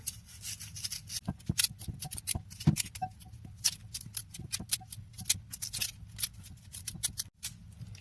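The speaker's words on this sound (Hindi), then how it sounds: "अब हम अरवी को काट लेंगे।" Taro root (arvi) being cut with a knife in a home kitchen for arvi curry, a steady run of short, close chopping and scraping clicks in irregular rhythm over a low background hum, with no talking.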